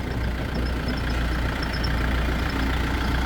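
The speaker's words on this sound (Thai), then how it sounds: "เราพามาดูสูบน้ำ เอารถไถนี่แหละ ประยุกต์" A farm tractor engine idles steadily to power a water pump draining a pond, a low, continuous rumbling drone with a faint mechanical whine on top, fairly close and without talk.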